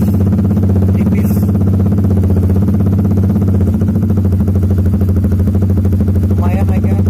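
A Honda Supra GTR motorcycle fitted with a Proliner exhaust and a dB killer, held at light throttle: a steady, close, loud mid-pitched engine drone with a fairly even pulse throughout, without big revs.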